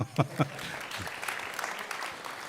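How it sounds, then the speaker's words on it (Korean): A few sharp, close claps lead into a brief patter of audience applause at a university graduation ceremony at Busan Presbyterian University, short and moderately loud. "박수해 주시죠."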